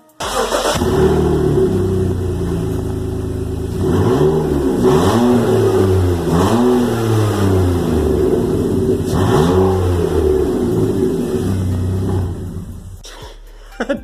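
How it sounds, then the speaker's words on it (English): A BMW E46 inline-six engine revs loudly and repeatedly through a straight-pipe exhaust, rising and falling between idle, then settling lower before a final clunk. "Inline 6 straight pipe rev?"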